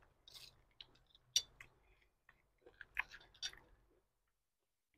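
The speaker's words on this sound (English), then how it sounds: "The mushroom is really crunchy." Chewing of crunchy fried oyster mushrooms, close and quiet, with several crisp crunches and bites scattered over a few seconds, then a pause.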